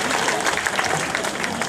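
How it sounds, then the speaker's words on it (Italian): Audience applause at an art award ceremony, a steady close wash of clapping hands that runs unbroken through the moment. "un applauso a Mauro per quello che fa"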